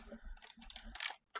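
Brief, quiet keystrokes on a computer keyboard, a short cluster of soft clicks followed by a couple of sharper taps, close and faint.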